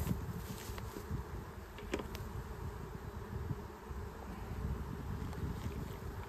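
A dense mass of honey bees buzzes continuously up close, a steady droning hum with no pauses.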